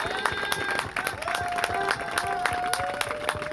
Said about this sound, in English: Big round of applause for Vernon Wells.